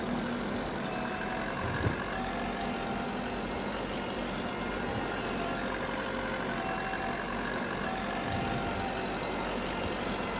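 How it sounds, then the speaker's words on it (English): A massive tractor pulling a New Holland Ford baler on a farm, a steady, dense engine drone that stays constant throughout with no talking. "A massive tractor pulling a New Holland Ford baler."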